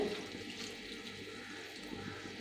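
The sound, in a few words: water poured into a pan while cooking jackfruit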